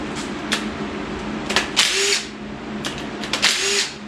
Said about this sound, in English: even the quarter drive impacts in the shop with a 3/8 friggin' adapter on it so you can put sockets on it and pull stuff apart like this